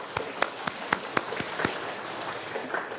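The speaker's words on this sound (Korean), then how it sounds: "감사의 박수를 같이 한번 치겠습니다" A church congregation at an afternoon service claps in thanks. The sharp, distinct claps come at a loose, fairly regular pace and are moderately close before fading into softer scattered noise.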